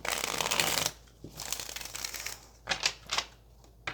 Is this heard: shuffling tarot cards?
yes